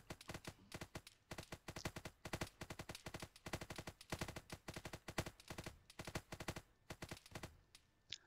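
A volley of rapid gunfire in a Warhammer 40,000 Imperial Fists joint operation, a long string of sharp cracks in a fast, uneven rhythm carrying on for about eight seconds, quiet overall with no talk.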